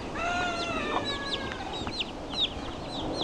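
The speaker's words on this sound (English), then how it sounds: "Baby chickens." Several chickens and baby chicks cluck and chirp in quick, overlapping calls nearby, with a few higher peeps mixed in.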